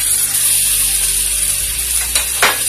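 Minced meat hits a pan of fried ginger and garlic, giving a steady, loud close sizzle with a hissy spray and a brief stirring burst near the end; no talk.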